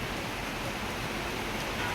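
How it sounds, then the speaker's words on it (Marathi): Dense, steady rush of heavy rain, broad and continuous with no breaks or voices. "बघा केवढा पाऊस चालला नेमका आता"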